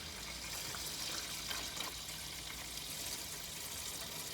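Salty water, not antifreeze, draining from the radiator of a 1984 Chevy Blazer barn find: a steady, faint hissing splash of liquid running out, continuous and without talk.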